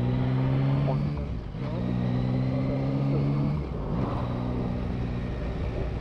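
A Yamaha Tracer 9 GT motorcycle accelerates through the gears, its engine note rising in pitch across repeated pulls with brief drops at shifts, loud and close, with wind rush around it.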